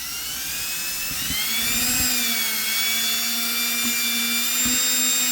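A power mixer whirs steadily at high speed, stirring a thick epoxy slurry for a white marble bathroom floor, its motor pitch wavering slightly as the paddle works through the mix. The sound is loud and close, with no talking.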